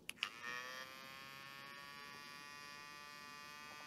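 A Hyderson 4V battery mini grinder drill runs at its lowest speed setting, giving a faint, steady high-pitched motor whine after a few brief clicks at the start.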